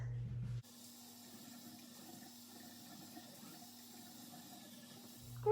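Running tap water splashes steadily into a sink as someone rinses their face during a skincare routine, a continuous close wash of water that stops near the end.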